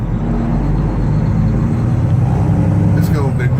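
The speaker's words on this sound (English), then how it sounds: "Stop and go traffic." Stop-and-go car traffic on a Chicago road, heard as a steady low engine and road rumble from inside a vehicle, with a faint passing whine near the end.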